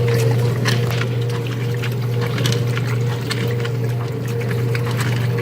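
A dual action washing machine agitating water during the wash cycle, a steady low motor hum under continuous sloshing and churning water, close and constant throughout.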